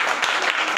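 Schoolchildren in a classroom clap for a classmate, a brief dense patter of many hands close by and fairly loud.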